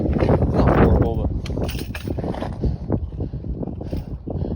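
Gusty wind buffets the microphone on a foggy, cold mountain ridge, a steady roaring rush with bursts throughout, while a person talks over it.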